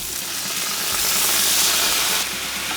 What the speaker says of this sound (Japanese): 裏にもね焼き色がついてきたら先ほど作った合わせ調味料を入れていきます